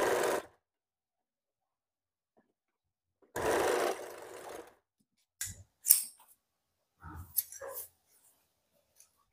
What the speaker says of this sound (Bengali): হুকের পট্টিটা প্রথমে মেশিনে সেলাই করে নাও